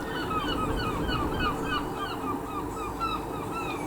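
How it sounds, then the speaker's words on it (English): Many seagulls call over and over outside a window on a windy day, a busy chorus of honking squawks, loud and continuous with no talking. "it's like a seagull convention in the sky outside my window"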